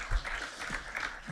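An audience at a 2024 evening scholar-in-residence lecture claps briefly, a short patter of applause at moderate distance, faint and quick.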